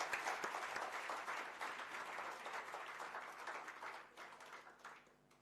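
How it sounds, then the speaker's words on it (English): An audience at an award ceremony applauds in a steady, dense wash of clapping, fairly faint and distant, holding for several seconds before tapering off slightly at the end. "Can we have another round of applause for Danudi as well as you, a wonderful audience?"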